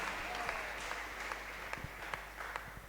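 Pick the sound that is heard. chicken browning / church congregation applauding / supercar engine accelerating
church congregation applauding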